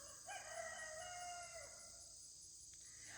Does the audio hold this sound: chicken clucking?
yes